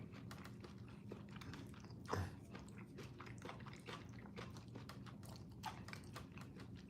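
Crunchy food is bitten and chewed close up, a rapid, irregular run of crisp crackling crunches that continues steadily with one sharper bite near the start.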